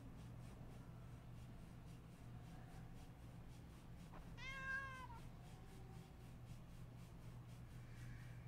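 A pet cat gives a single clear meow with rising harmonics, fairly close, over a steady low room hum with no talk, heard during a tabletop card game session.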